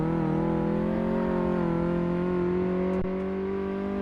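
Simulated car engine in Car Mechanic Simulator 2018, a basic synthetic drone held at steady revs with strong, even tonal layers and a brief dip near the end, loud and alone.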